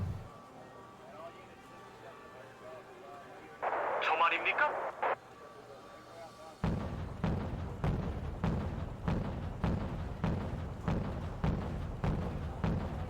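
Wargame: Red Dragon battle audio with a burst of gunfire and explosions, then a steady series of deep rhythmic thumps of artillery fire, with someone talking over parts of it.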